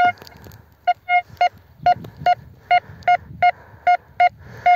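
Metal detector sounding a series of about a dozen short, evenly spaced electronic beeps over quiet outdoor background, the tone registering a reading around 62 to 63.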